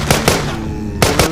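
Gunfire in a zombie shooting video game: a quick pair of loud, close bangs, a brief pause, then another pair, sharp and punchy.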